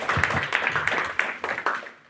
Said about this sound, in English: Let's give a round of applause, guys.